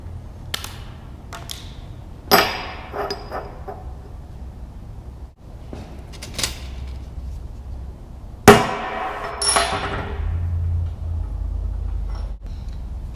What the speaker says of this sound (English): I got a nice center punch right there in the middle of the socket on the flat end on the back side of the socket